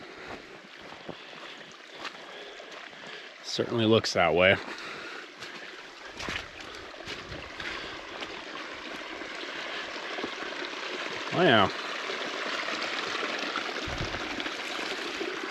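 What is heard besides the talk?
running water from a spring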